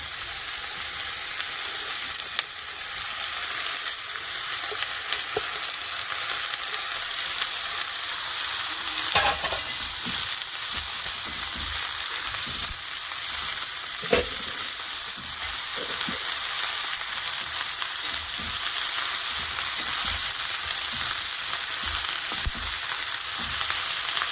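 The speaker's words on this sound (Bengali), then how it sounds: "পেঁয়াজগুলি কেটে রেখেছি ছোট ছোট করে, এটাও দিয়ে দেবো একসাথে।" Chopped onions frying in a pan with vegetables, a dense continuous sizzle close by, with occasional stirring knocks and scrapes.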